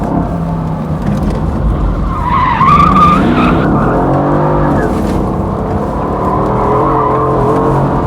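A Mercedes SLS AMG sliding with its traction control fully off: a loud, close engine roar under a rising tyre squeal that peaks midway, then a steady, heavy drone as the car keeps drifting.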